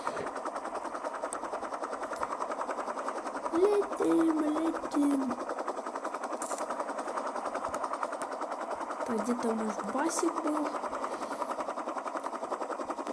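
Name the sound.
helicopter flying in video game Real Gangster Crime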